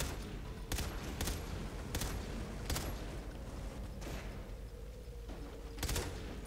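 Enemy gunfire in the Far Cry 3 video game: a run of sharp shots spaced irregularly, about eight bursts over a low steady background, moderately loud and close.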